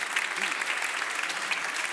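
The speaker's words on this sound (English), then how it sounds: "Everybody, please give him a big round of applause" Audience applause at a life-science startup pitch competition, a steady, dense wash of clapping from a sizeable crowd that holds at an even level throughout.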